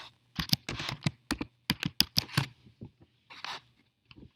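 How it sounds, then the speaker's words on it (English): Typing on a computer keyboard, close and clear, with irregular clusters of crisp key clicks and short pauses between them. No one speaks. "press enter with your keyboard, and then you can type"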